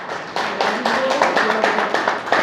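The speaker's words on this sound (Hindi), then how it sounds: "इनके लिए तालियां बजाओ एक बार जोर से" Audience clapping for a community volunteer at a Jangam Samaj organisation meeting in Gangapur City, a fairly close, irregular burst of hand claps with talk mixed in underneath.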